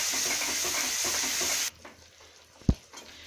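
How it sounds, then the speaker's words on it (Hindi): Curd being quickly stirred into shahi paneer masala frying in a pan: a loud, steady sizzle that cuts off abruptly partway through, followed by quiet scraping and one sharp knock. "अब इस स्टेज पर हम ये जो हमारा दही है इसको डालेंगे और अच्छी तरह से जल्दी जल्दी मिक्स करेंगे।"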